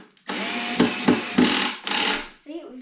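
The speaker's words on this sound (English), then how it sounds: "You gotta look down the drill and look down the screw." A power drill drives screws into a wooden sawhorse being built in a workshop: a long close whirring burst with clicking catches, then a short second spin and a faint trailing noise.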